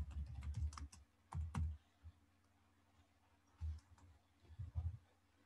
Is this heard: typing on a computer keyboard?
yes